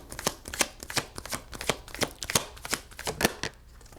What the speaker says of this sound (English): I'm going to take my time with this shuffle.